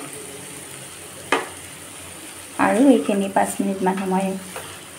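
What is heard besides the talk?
frying in a pan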